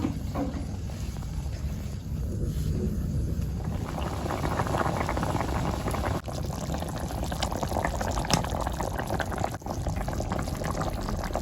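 Hot water pours into a pot of chicken and taro curry in a village kitchen, a continuous rushing, bubbling splash that is loud and close, with a brief clink partway through.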